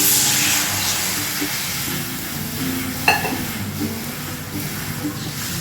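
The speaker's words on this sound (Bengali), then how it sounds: "সুন্দর একটা গন্ধ বেরিয়েছে, তাই জল দিয়ে দিচ্ছি" Water poured into hot frying spices in a pan for a winter vegetable dish sets off a loud, steady sizzle and hiss that fills the whole stretch, with one sharp clank partway through.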